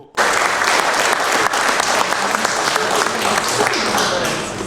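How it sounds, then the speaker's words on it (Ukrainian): Regional council deputies applaud at a session, steady continuous clapping from a full hall that fills the whole stretch, with some voices mixed in underneath. "всі депутати оплесками подякували генералу та його команді"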